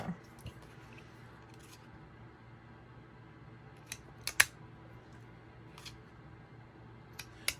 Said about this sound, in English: I need to cut a little closer because I can't get to those.